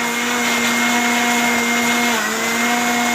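A faulty home electric blender runs loud and close with a steady motor whine for several seconds, its pitch dipping slightly partway through, with no voices over it.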